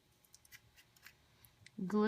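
Scissors make a few faint, quick snips while trimming thread ends close, in a quiet setting, before a voice begins speaking at the very end.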